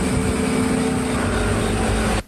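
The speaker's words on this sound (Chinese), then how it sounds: "大半夜，阳明山上的透天厝外头传来扰人的摩托车声" Motorcycles roar past a detached house on Yangmingshan late at night. Their engines make a loud, steady drone for about two seconds before it cuts off abruptly.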